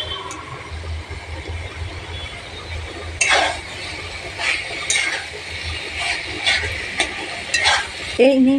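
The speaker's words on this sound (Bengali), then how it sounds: "এবারে নিম পাতাটাকে মিশিয়ে দিলাম।" Neem leaves stirred into eggplant frying in a pan: a soft sizzle throughout, broken by several distinct scraping strokes of a spatula and light clinks against the pan, with no speech over it.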